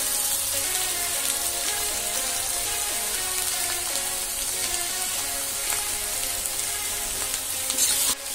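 Potato pieces sizzle steadily in hot oil over a low flame for a crispy potato fry, a dense, continuous frying hiss heard close up and alone, with a brief stir or clatter near the end.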